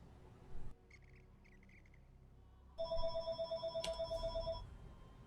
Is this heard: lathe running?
no